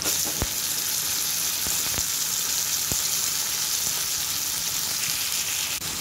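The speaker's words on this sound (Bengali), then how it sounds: "পেঁয়াজ কুচিটা দিয়ে দিলাম, একটু লাল করে ভেজে নেব।" Chopped onion, with tomato, fries in a pan for a chicken dish, a steady close sizzle with a few sharp pops and no talking.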